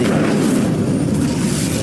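A fire spell is cast in the video game Hogwarts Legacy: a steady, dense roaring burst of flame, loud and close, sustained without a break and with no talk over it.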